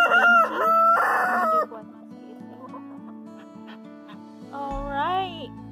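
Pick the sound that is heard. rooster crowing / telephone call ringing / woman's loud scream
rooster crowing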